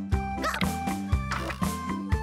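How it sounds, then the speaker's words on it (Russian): A cartoon dog barks about four times in an even, bouncy rhythm, the bright yipping barks loud and close, set to a light children's cartoon song. "Собачка Гав-Гав."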